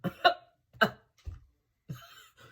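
Several short, sharp hiccup-like bursts from a woman doing her makeup, irregularly spaced with brief pauses between them, close and fairly clear with no talking.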